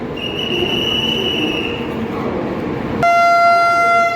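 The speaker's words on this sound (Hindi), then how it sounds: "ट्रेन का हॉर्न बज गया है," After a high metallic squeal over rumbling, a loud, sustained horn from the Vande Bharat Express at Howrah blasts suddenly and holds to the end.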